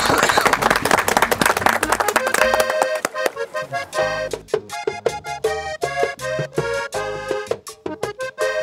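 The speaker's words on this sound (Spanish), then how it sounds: "Les damos un aplauso para calentar motores" An audience at a live vallenato show in Sopó applauds in a dense burst of clapping for a few seconds, then the band's music kicks in with rhythmic percussion and chords.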